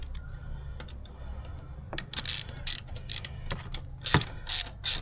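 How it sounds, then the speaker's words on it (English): Sharp ratchet clicks come in short, loud bursts as a fresh-threaded bolt is tightened on an MK7 during an intake elbow upgrade, close and alone after a quiet stretch. "tighten this bolt up"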